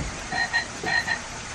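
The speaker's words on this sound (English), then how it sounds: "It's a frog." A frog croaks in a short series of rhythmic, raspy calls, close and clear over a quiet outdoor background with no talking.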